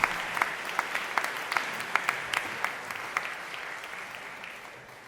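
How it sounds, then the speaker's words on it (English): A crowd applauds steadily, dense clapping with a few sharper claps standing out, gradually fading toward the end. "Can we have another round of applause for Brother Shashank and our panelists?"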